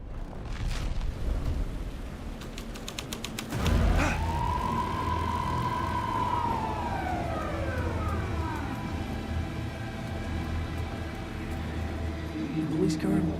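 Police car siren in the Alan Wake 2 game, a single rising and falling wail sweeping across a dense background rumble, with talking throughout.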